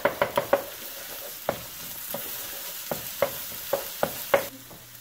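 Scrambled egg and vegetables stir-fried in a pan for egg fried rice, giving a series of close, sharp scraping stirs, quick in succession at first and then spaced out, over a soft background sizzle.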